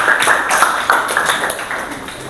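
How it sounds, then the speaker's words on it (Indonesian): Students in a classroom applaud group 2 after their presentation, a loud, close burst of many hands clapping with uneven sharp slaps throughout. "Tepuk tangan dulu untuk kelompok 2."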